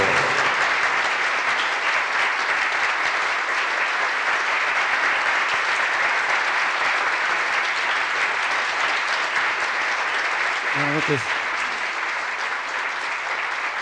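An audience at a bohemian music event in Jalisco applauds after a song, a loud, sustained wall of clapping that runs steadily for over ten seconds, with a brief low voice near the end.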